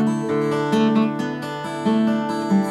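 An acoustic guitar plays a short passage of a song with the correct note, clear plucked tones ringing and overlapping in a steady melodic line, close and alone with no talking.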